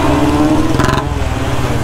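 A Royal Enfield Bullet motorcycle with a freshly cleaned carburetor runs close by in a steady thumping idle, with a brief sharp rev near the middle before settling back.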